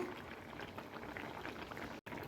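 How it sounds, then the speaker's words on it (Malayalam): Coconut oil goes into a simmering Kerala style fish curry, and the curry bubbles with a soft, continuous, close boiling burble and faint liquid patter. "ഇനി ലാസ്റ്റ് ഞാനിതിനകത്ത് ഇച്ചിരി വെളിച്ചെണ്ണ ഒഴിക്കാൻ പോവാണേ"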